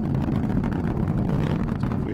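An Atlas V rocket's RD-180 engine roars during launch, a dense, steady low rumble with windy crackle that holds unbroken throughout, loud and continuous.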